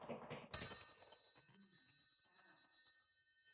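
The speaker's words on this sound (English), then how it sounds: "Why is my phone ringing?" A mobile phone ringtone cuts in loudly and abruptly during a Parkinson's exercise class, a bright, sustained electronic ring that holds steady for about three seconds right after brief talk.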